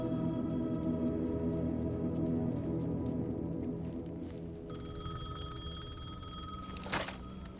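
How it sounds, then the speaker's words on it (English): A payphone rings in Alan Wake 2 with a steady, repeating electronic trill over a droning background, followed by a short bright burst near the end. "The payphone was ringing."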